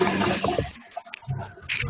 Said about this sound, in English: You're flushing the toilet.